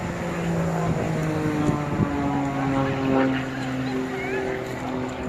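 A Jet Pitts Special aerobatic plane with a 6-cylinder 8.5 litre 540 Lycoming engine and added jet engines drones steadily at an airshow at Eastbourne, its propeller hum shifting in pitch as it manoeuvres, with a commentator's voice over it.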